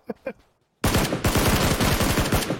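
Enemy automatic gunfire in a video game: after two brief soft sounds and a short silence, a loud, sustained stream of rapid, evenly spaced shots bursts in close and continues without a break.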